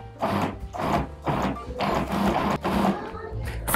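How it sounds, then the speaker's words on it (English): A food processor blitzing icing sugar with ground almonds into fine crumbs, its motor whirring loudly in close, pulsing bursts of roughly half a second, separated by brief dips. "get my icing sugar and ground almonds and pop them in the food processor and blitz them until they are a fine powdery crumb"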